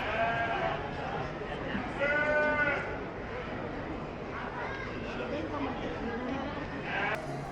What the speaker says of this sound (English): looking at all the sheep and the cattle and stuff